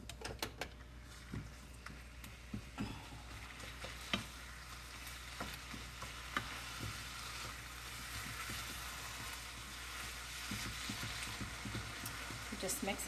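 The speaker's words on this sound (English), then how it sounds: "you can see how some of the meat is turning brown. Okay, so we're gonna keep cooking." Meat for quesadillas browning and being stirred in a pan, a continuous soft sizzle with scattered utensil scrapes and taps, close but fairly quiet throughout.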